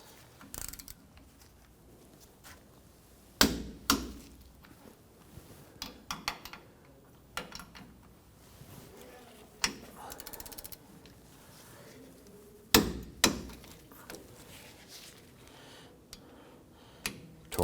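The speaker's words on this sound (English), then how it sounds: "Torque down our caliper bracket bolts to 63 foot-pounds." Torque wrench clicking as caliper bracket bolts are tightened on the rear brakes of a 2005-2021 Nissan Frontier; a series of sharp, close mechanical clicks and ratcheting ticks in irregular bursts, with the louder clicks standing out clearly.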